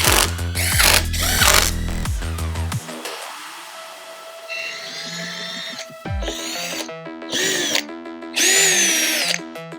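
A power drill with a 17/64 bit boring holes for M8 bolts during a Starlink mount installation on a Raptor, whirring in several loud bursts with ratcheting clicks and gear whine, broken by a quieter stretch of hum and pauses between runs.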